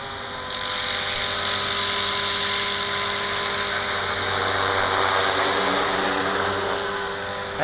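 A V450D01 RC helicopter hovering outdoors in autopilot mode, a steady high-pitched motor whine with whirring rotor blades, fairly close and constant across the whole stretch, with no voices.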